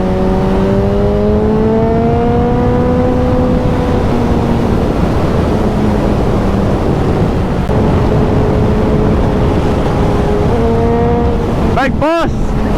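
A powerful motorcycle with a quick shifter pulls hard on a scenic road ride. The engine drones and rises through the gears, with wind roar throughout and a sharp burst of revving near the end.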